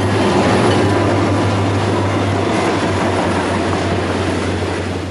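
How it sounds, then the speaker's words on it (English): A heavy locomotive pulling a mile-long freight train rumbles past close by in America, a loud continuous roar of rolling wagons with a low engine drone underneath. "A locomotive pulling a mile-long freight train is locked in a titanic struggle"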